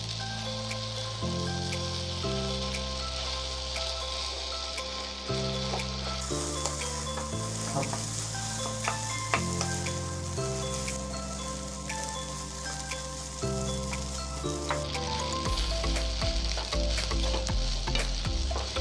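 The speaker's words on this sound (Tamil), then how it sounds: "இப்போ நம்ம இந்த ஸ்டேஜில் வேக வச்சு இந்த பாஸ்தாவை இதில் ஆட் பண்ணிடலாம். இதை வந்து நல்லா ஃப்ரை பண்ணிக்கோங்க." Boiled pasta and vegetables fry in a pan with a steady, close sizzle, stirred now and then, while a low hum runs underneath.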